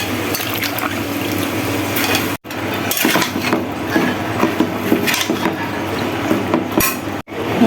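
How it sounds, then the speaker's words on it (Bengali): Washed vegetables go into a pan of oil-fried spice paste, giving a loud, continuous sizzle and crackle with a few brief clatters as they settle, and no talk over it. "এখন আমি সবজিগুলি দিয়ে দেব"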